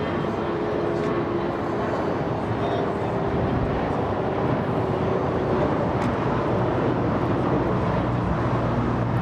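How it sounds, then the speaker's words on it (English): A Boeing 767-400 taxis at LAX, its steady broadband engine roar and rumble continuous and fairly loud throughout, with faint voices in the background. "So cool to see the 767 taxi"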